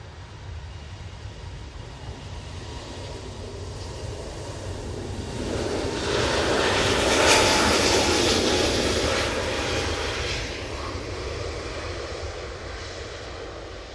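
A Lufthansa Airbus A320neo on its takeoff roll at Manchester Airport builds a broad jet roar that swells to a loud peak around the middle, then slowly fades, with no voices.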